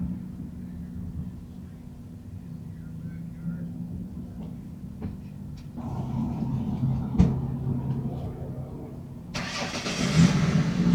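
A truck engine cranks and catches, settling into a low idle that swells and roughens, heard from a short distance at a Cracker Barrel parking lot with some ticking noises.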